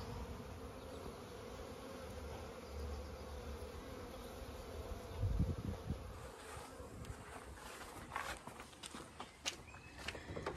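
Bees from a colony newly moved into a homemade Super Hive Mark II buzz and fly around the hive outdoors, a faint steady hum with individual bees passing close, plus some light rustling and footsteps.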